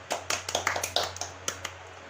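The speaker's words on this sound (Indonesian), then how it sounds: "Beri tepuk tangan untuk temannya ya." A few scattered hand claps in a classroom for a student, sparse and uneven, fairly faint, with no voices over them.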